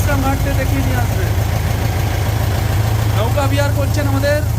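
A boat engine drones steadily throughout a boat ride near Vishram Ghat in Mathura, a constant low rumble running under people talking.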